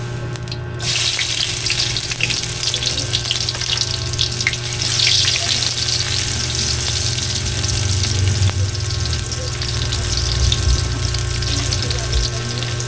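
Garlic sautéing in a pan at home, a loud, continuous hiss of hot oil running unbroken from start to finish over a low steady hum.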